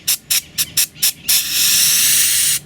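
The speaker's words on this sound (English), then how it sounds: "I'm going to spray some carburetor cleaner" Carburetor cleaner hisses from an aerosol can onto a stuck Yamaha 90 hp two-stroke outboard motor: five short close bursts, then a long continuous loud spray, alone with no talk.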